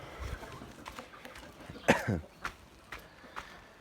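Chickens on a chicken farm clucking excitedly in short scattered bursts, faint and close, with one louder squawk in the middle.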